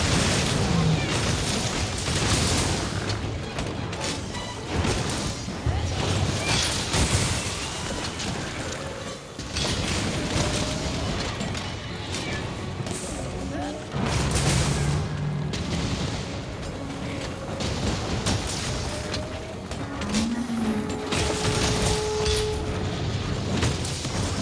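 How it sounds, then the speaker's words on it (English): Repeated explosions and heavy gunfire-like booms roll on continuously, loud and dense, with a voice talking intermittently underneath. "Explosions. More explosions."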